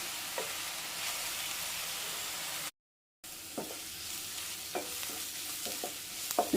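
Sliced onions with a little salt softening and sizzling in a hot pan for a spicy mushroom masala, with steady frying hiss and clattering scrapes of a spatula stirring throughout; a short dropout breaks the sound midway.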